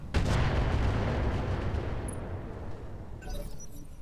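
In the Roguetech mech game, a heavy weapon fires and strikes with a deep booming blast that rumbles and decays over several seconds, followed by faint rattling debris.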